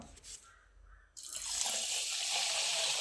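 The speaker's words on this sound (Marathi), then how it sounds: "त्यात एक तांब्या पाणी टाकायचं आहे आता आपल्याला" Water pours steadily from a pot onto washed rice in a pot after a brief quiet start, a continuous close splashing rush that fills the rest of the clip.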